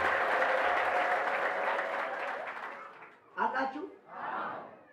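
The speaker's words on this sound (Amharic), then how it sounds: "አጨብጭቡ ለኢየሱስ" A church congregation claps for Jesus at the close of worship, the applause running thick and steady before thinning, with a short burst of cheering and a final swell of clapping mixed with voices.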